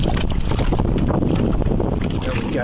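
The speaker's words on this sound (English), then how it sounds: "Wind's really blowing now." Strong wind buffets a fishing boat on a lake during bass fishing, a loud, constant roaring rush with heavy gusting against the microphone.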